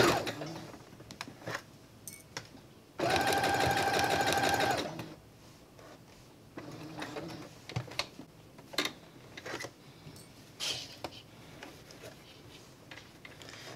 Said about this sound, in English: Make sure to backstitch at the beginning and the end